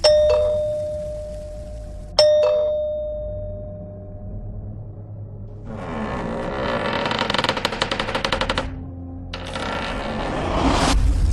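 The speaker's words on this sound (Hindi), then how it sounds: "कि अचानक घर की बेल बजी।" A house doorbell rings twice in sharp ding-dong chimes on a rainy night, each tone ringing out and fading, followed by a louder stretch of rustling and engine-like noise.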